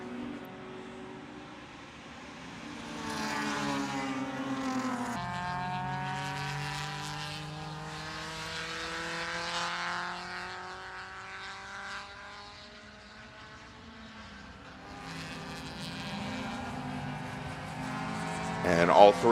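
Race cars circulate on the track at Barber Motorsports Park during an SCCA Super Tour race, engines droning and rising in pitch as they pass, heard beneath steady commentary.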